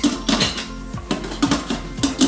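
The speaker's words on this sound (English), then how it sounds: "I'm gonna put the whole pan in here like this, and then I'm going to close the lid" A metal cheesecake pan clanks into an Instant Pot and the lid is closed, a series of sharp close knocks and rattles in an uneven rhythm with no talking.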